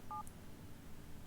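A short electronic phone-dialing tone plays when a phone line is placed in the video game Project Highrise, one brief quiet double-toned beep near the start over a faint background hum.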